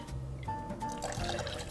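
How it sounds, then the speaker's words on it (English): Aviation gin poured into a cocktail shaker for a mint aloe gimlet, a short close trickle of liquid lasting under two seconds. "Pour that guy in, maybe a splash more."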